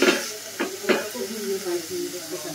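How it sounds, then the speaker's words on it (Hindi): Futku, a Jharkhand dish, frying in roasted masala in a pan, with a soft steady hiss and a few sharper sizzling bursts near the start, fairly close and moderate in volume. "फुटकू को भूजेंगे 5 मिनट इसके साथ"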